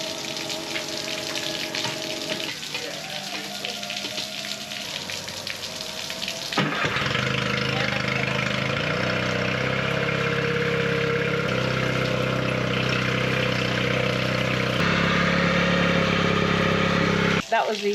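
Sailboat outboard motor test-run with the power head engaged and the propeller spinning, giving a steady loud engine drone with churning water noise that shifts pitch partway through, close up, while a voice briefly talks over it.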